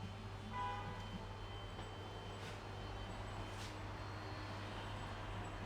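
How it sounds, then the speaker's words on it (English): A vehicle horn honks continuously outside, faint and distant, holding a steady drawn-out tone under a low background hum with no talking. "Who is just honking consistently?"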